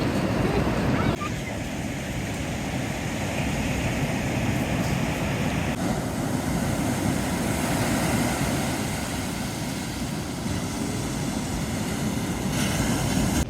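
Pacific Ocean surf washing onto a rounded-pebble beach in Olympic National Park, a steady broad rush with rising and falling swells, loud and close, mixed with some wind.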